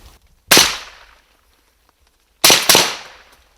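Two sharp, loud gunshot cracks at a sniper position on the Kupiansk front in Ukraine, one alone and then a quick double burst, each ringing out and decaying in open air.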